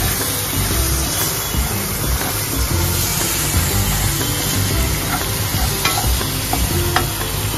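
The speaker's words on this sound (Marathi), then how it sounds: "आता याच्यात आपण ही कलेजी घेतली ही घालून घेऊया, आपण तिला चांगली तेलावर अशी परतून घ्यायची" Chicken liver sautéing in hot oil with coconut paste, a steady loud sizzle with continuous stirring and scraping in the pan throughout, no talking.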